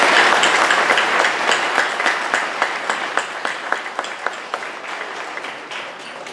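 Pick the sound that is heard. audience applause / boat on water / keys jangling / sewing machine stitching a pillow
audience applause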